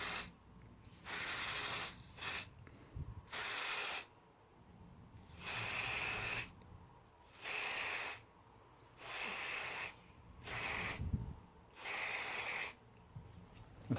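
Short bursts of aerosol oil spray onto a K&N cotton air filter, about seven hissing sprays of roughly a second each separated by quiet gaps, close and fairly soft.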